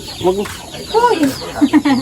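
Short clucks from a chicken, several soft bursts spread across a couple of seconds, fairly close, with some background noise.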